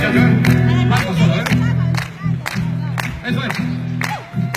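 An audience at an outdoor performance in Plaza Independencia claps hands in a steady rhythm, sharp repeated claps punctuating sustained guitar and singing, with voices mixed in.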